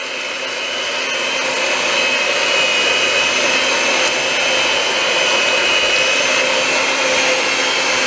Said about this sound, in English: I'm going to whisk it all together now.